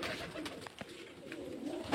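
Pigeons kept for sale, including Giribaz and Matraj breeds, coo close by in soft, throaty murmurs with a few sharp clicks and rustles, no talking.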